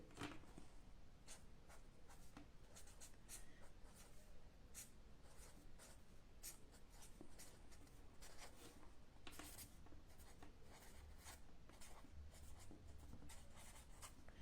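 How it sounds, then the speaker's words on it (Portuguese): A pen writing in red, steady quick scratching strokes close up, continuous and faint with no talk. "Eu vou escrever de vermelho até."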